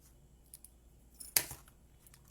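Scissors with sticky blades cut paper while a craft box is being made. One quiet, close snip lands near the middle, with a few faint handling clicks around it.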